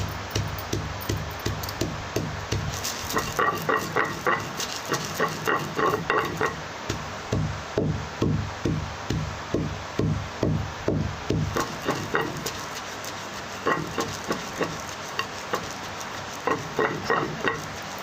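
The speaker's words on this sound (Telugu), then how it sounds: "ముందుగా నువ్వులు వేసుకోవాలండి దంచుకోవాలి బాగా" Sesame seeds pounded in a stone mortar give steady, rhythmic thuds, roughly two per second and close by, with a short pause partway through before the pounding resumes.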